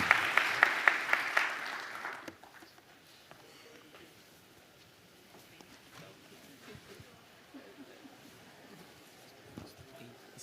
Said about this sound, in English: Please join me in giving them another big round of applause.